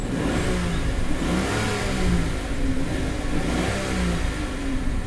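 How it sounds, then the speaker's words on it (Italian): A stationary Rolls Royce Phantom's V12 biturbo engine revs, rising and falling in smooth, muted swells over a steady, dense rumble heard from inside the cabin, without talk. "Proviamo a sentire da ferma il sound del motore."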